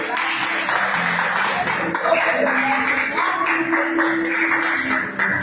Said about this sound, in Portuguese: Vamos receber a missionária Luísa com palmas bem mais.